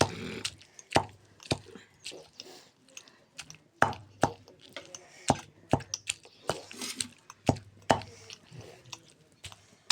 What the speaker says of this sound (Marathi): आता हे टमाटे बारीक करून घ्यायचे